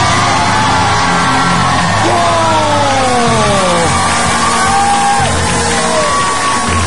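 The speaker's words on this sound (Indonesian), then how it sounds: "Tepuk tangan untuk peserta pertama." A television studio audience on a comedy show yells and whoops loudly to welcome the first contestant, a family act of a father and two children, with raised voices and cheering rolling continuously throughout.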